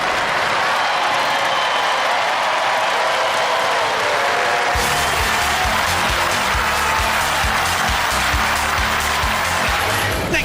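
Audience applause at a Robot Wars Grand Final, a broad steady wash of clapping from a large crowd that grows denser and heavier partway through, with rhythmic thumping underneath, continuing without a break to the end.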